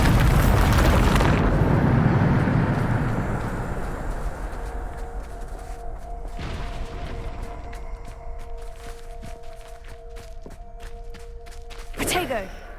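Bombarda exploding spell in Hogwarts Legacy: a loud, near blast opens the moment, then a long rumbling decay over several seconds, followed by a quieter steady tonal hum and a brief swell near the end.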